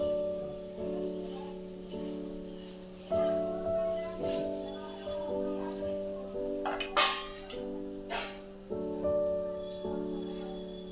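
Freshly washed pots, bells and puja utensils clink and clatter against one another in irregular knocks, with ringing metallic tones hanging between strikes and one sharper crash midway, all close by and with no voices.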